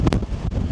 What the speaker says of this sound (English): it's blowing a hoolie up here. Blowing an absolute hoolie.